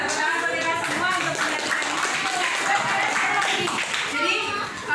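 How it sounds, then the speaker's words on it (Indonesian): A classroom of students claps together while excited children's voices ring out over the steady, brisk clapping. "Tepuk tangan bagi kita semua"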